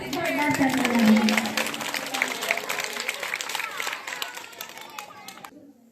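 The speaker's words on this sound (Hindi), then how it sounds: "इसलिए जोरदार तालियां बजा" Crowd applause at a school gathering at a Saraswati Shishu Mandir, a dense burst of clapping that starts loud and gradually thins out before stopping abruptly.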